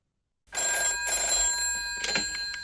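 An old telephone bell rings sharply in short bursts under a film score, starting abruptly after a brief silence.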